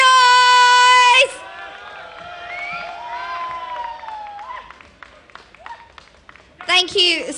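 Crowd cheering and shouting at the Boishakhi Mela in London for the Shomi Das Dance Company, a loud outdoor festival crowd with excited voices and scattered clapping, rising again near the end alongside amplified music.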